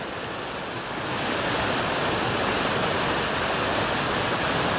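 A waterfall in Franconia Notch, New Hampshire, gives a dense, steady roar of falling water that swells louder after the first second and stays constant, close and alone.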